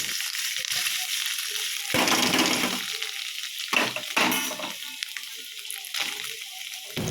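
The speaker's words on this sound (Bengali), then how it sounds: "কড়াইয়ের মধ্যে হালকা তেল দিয়ে আমি এর মধ্যে দিয়ে দেব পনিরগুলো" Paneer pieces dropped into a little oil in a wok, bursts of loud sizzling and spattering rising and falling between quieter moments of frying.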